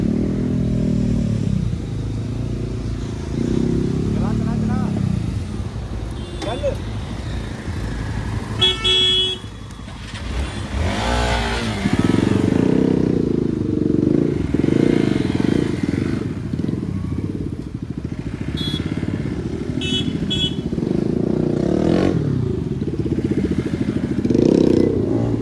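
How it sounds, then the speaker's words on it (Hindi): A motorcycle approaching on a busy road in Greater Noida, its engine rising and revving closer among other traffic, with car horns tooting and clattering vehicles around it, loud and continuous. "बाइक आ रहा है।"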